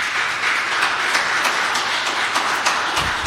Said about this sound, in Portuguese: Quem pode aplaudir Jesus bem forte